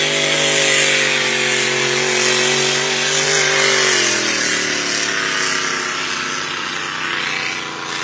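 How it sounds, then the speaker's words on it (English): Ken Brody's GP50 unlimited hydroplane race boat, just repaired after a fuel-fitting fire, fires up with a loud, steady turbine roar and a high whine that drops slightly in pitch midway through. "Ken Brody fires up the GP50 after quite a fire yesterday. And that's the boat you hear in the background."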